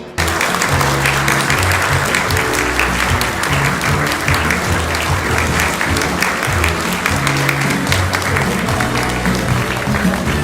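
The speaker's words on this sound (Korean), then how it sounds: "여러분 모두 힘찬 박수로 환송해 주시길 바랍니다" A large audience at a Korean-Vietnamese business event breaks into loud, sustained, dense applause as President Lee Jae-myung and the Vietnamese prime minister leave the hall.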